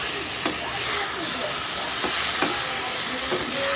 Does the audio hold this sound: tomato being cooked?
yes